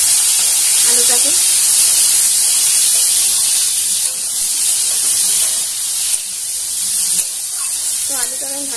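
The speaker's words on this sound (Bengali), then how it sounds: "কেটে রেখেছি সেই আলুটাও দিয়ে দিলাম, এবার ভালো করে একটু নেড়ে নিচ্ছি আলুটাকে।" Cut potatoes sizzle and hiss loudly in hot oil with tempered spices in a pan while cooking a cabbage dish with hilsa fish head, a steady bright frying noise with faint stirring and a voice talking now and then.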